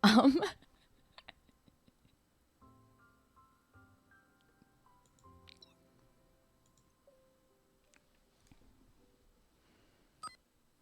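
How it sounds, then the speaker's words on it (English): Electronic camera beeps from the Artem Day and Night card animation in a video game, a sparse series of short, quiet tonal blips and ticks spread across a mostly silent stretch, with one brief louder burst at the start. "With a beeping sound of the camera, the still frame starts to move"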